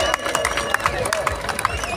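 A crowd claps and cheers at a village wrestling match, making dense, steady applause mixed with babble and shouting for the whole short stretch.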